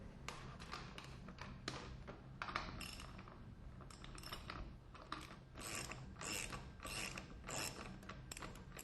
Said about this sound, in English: And then I'm going to remove the wheel.